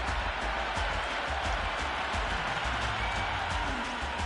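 A cricket stadium crowd at an India vs Australia T20 match roars steadily after a six, a dense, distant-sounding wash of cheering without clear breaks.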